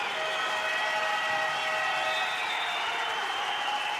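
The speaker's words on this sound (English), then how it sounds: "The home crowd are not happy." Unhappy home crowd at a EuroLeague women's basketball game between Perfumerias Avenida and Cukurova Mersin, a steady wash of whistles, jeers and crowd noise throughout, loud and continuous with no gaps.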